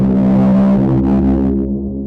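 A so-called winter horn sound effect: a loud, sustained low droning horn blast with rich harmonics, holding steady for about two seconds before easing slightly.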